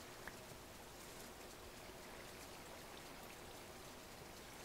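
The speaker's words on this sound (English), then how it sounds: "Oh, interesting. Waterfall." A waterfall in the video game Minecraft gives a steady, unbroken hiss of falling water, like heavy rain on a surface, with an even level throughout and no voices.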